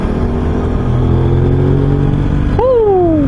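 An Aprilia RS660 sportbike engine, derived from the RSV4, idles with a steady low rumble, then revs up sharply and winds back down, loud and close.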